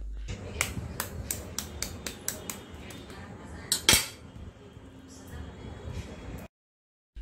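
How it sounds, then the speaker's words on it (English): Shell of a boiled egg being cracked: a quick series of sharp, evenly spaced taps, then one louder crack, followed by faint crinkling, close up and without talk. "Let me pick it up and crack its shell to show you that"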